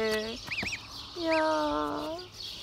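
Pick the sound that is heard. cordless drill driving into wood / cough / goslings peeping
goslings peeping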